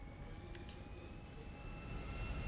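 An airplane engine drones steadily in GTA V Online, a continuous broadband roar with a faint whine that builds slightly toward the end, heard alone without speech.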